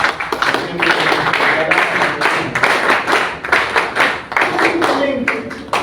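Applause for an ambassador at a talk on the ideas of APRA: dense clapping from an indoor audience, steady and fairly close, running the whole stretch with voices faintly mixed in.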